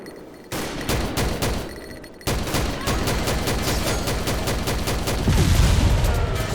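Rapid gunfire from the shooter game XSHOT, with dense bursts of automatic shots and explosions that stay loud and continuous from start to finish.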